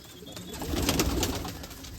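Crested, shaggy-footed flying pigeons coo softly over a steady background hum, low murmuring calls with no clear talk.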